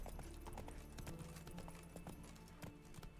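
A horse gallops in The Witcher 3 video game with quick, rhythmic clip-clop hoofbeats close up, set over a steady, loud bed of game ambience, with no talking.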